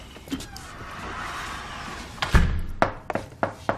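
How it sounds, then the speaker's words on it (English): A car door shuts with a solid thump, followed by a few sharper clunks and knocks nearby after a brief quieter stretch, with no talk. "Close that door behind you, please."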